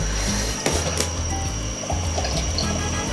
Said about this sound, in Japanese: 今スイッチを入れてみると、わ、めっちゃ気泡が出る。